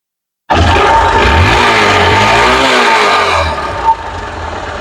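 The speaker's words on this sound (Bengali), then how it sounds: "বাইকটা কিন্তু স্টার্ট অবস্থায় আছে যদি সাউন্ড আপনাদের দেখায় দেখুন এই টাইপের হবে" A second-hand Hero Hunk 150cc double-disc motorcycle runs close by with a loud, steady engine note that rises and falls slightly, then eases off near the end.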